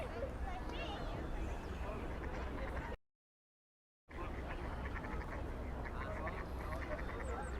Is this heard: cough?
no